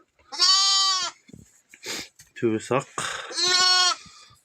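A newborn black female lamb with a white-topped head bleats twice in loud, drawn-out cries, close by, with a person talking between the calls.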